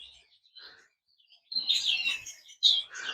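Pet birds chirp in short bright bursts, first faint and sparse, then louder overlapping tweets near the end.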